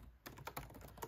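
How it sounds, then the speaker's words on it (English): Quick, irregular keystrokes clatter on a computer keyboard during a short burst of typing, close and quiet, with no speech. "Excuse my typing."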